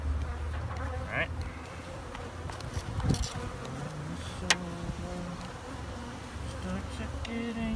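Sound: bees buzzing

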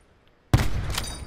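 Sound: gunshots in video game Call of Duty Blackout

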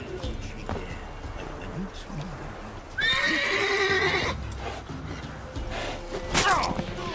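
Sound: horse neighing in a video game

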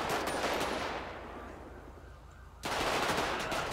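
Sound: gunfire shooting at car drivers in a video game

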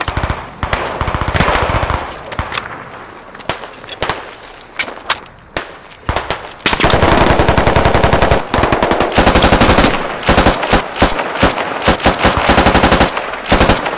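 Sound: machine gun fire in the Squad video game

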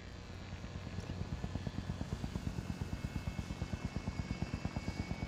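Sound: helicopter flying in Warzone video game

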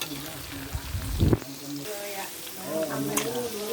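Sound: sun-dried pork frying in oil

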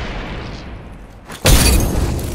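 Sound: frag grenade explosion in video game Apex Legends

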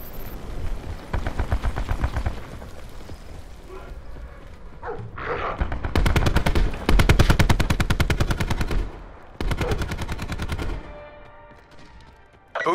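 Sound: gunfire in video game Call of Duty Black Ops 4

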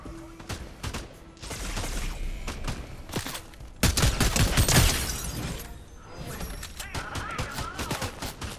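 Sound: gunfire from bots in Fortnite video game

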